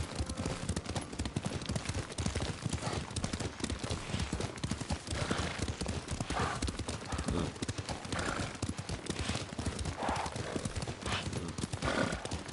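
Horse hooves clip-clopping steadily at a riding pace in the video game Ghost of Tsushima, with occasional neighs and whinnies, continuous and close throughout.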